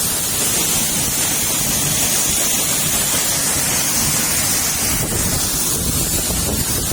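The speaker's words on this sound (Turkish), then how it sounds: "Vasavrık Mağarası'nın dibinde dökülen şelale." A waterfall spills at the foot of Vasavrık Cave among forested mountains in Kahramanmaraş, heard as a loud, unbroken roar of rushing water, mixed with wind buffeting, and no voices.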